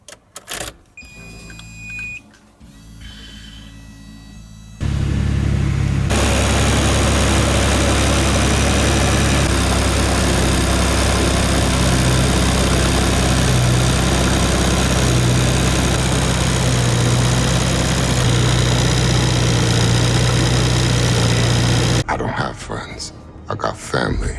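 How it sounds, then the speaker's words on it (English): A car engine starts up and settles into a loud, steady idle that runs for most of the clip before cutting off, with some quieter sounds ahead of the start. "Let's start the car up, let's stomp on the brake"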